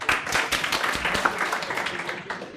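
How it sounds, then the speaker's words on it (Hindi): Clapping from a classroom audience of students, a dense run of overlapping hand claps sustained for a few seconds at moderate loudness. "एक बार ताली बजाओ यार।"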